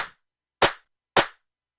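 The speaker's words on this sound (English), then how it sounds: "So that's the snare." Three crisp, snappy clap-style snare hits from a drum and bass track, each short and sharp with a quick decay, evenly spaced and heard alone with silence in between.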